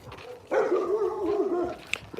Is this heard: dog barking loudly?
yes